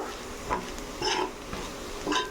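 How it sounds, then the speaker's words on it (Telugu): Bitter gourd frying in a pan with soft sizzling, and three distinct scraping stirs of a spatula against the metal at roughly even intervals, fairly quiet and close. "ఇలా నీట్గా వేయించాలి."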